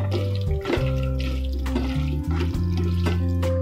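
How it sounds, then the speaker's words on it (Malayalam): Tap water runs in a steady, continuous stream over boiled macaroni in a home kitchen, cooling the pasta for an Indian-style recipe. The pour is loud and close throughout, with no talking. "ഇത് ചൂട് വെള്ളത്തിൽ ഇരുന്ന് ആ ചൂട് കൊണ്ട് വേവാതിരിക്കാനാണ് നമ്മളൊന്ന് വെള്ളം ഒഴിച്ച് തണുപ്പിക്കുന്നത്"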